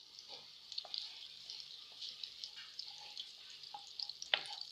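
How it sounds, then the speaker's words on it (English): Butter melting in a pan before Korean twisted doughnut dough is made, giving a faint, steady soft sizzle with a few small ticks and pops. "So my butter is melting here."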